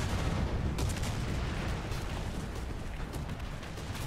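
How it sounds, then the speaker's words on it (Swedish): Gunfire and explosions from the War Thunder tank game crackle and rumble without a break. The battlefield noise is loud, heavy and low, with sharper bursts on top, and no talk is heard. "Och det smäller och det skjuts."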